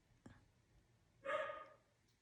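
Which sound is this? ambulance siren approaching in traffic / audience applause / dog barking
dog barking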